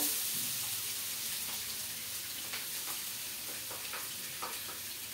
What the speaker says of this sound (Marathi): तर तेल गरम झालेलं आहे, तर लसणाची फोडणी देऊया।